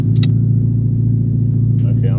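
A Dodge Charger Pursuit warming up with its engine idling at a steady, close, low rumble throughout, with a few light clicks and brief jingles on top and some talk in the cabin.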